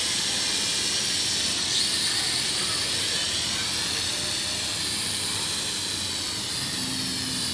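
A small remote-controlled drone flies overhead, its steady high buzzing whine holding at constant loudness from start to finish without any talk.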